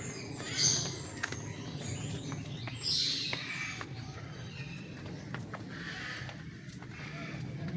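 Parrots and other birds in a zoo aviary, with a few sharp chirps and squawks over a busy background of footsteps and murmur, birds moderately near.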